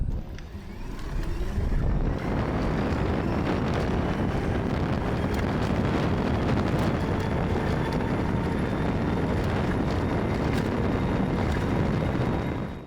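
An EZGO golf cart travels at high speed without a windscreen, heavy wind buffeting the microphone in a steady, loud roar that builds within the first two seconds and continues unbroken.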